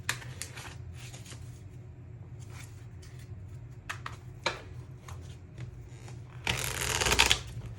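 Light Seers Tarot cards shuffled by hand in repeated riffling bursts at close range, growing louder and denser toward the end with no talking.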